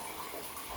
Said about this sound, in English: we had no idea where the selector switch was going to send the water first, and apparently it's to the rain shower head